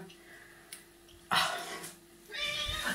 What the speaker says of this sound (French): J'ai un chat qui vient de débarquer.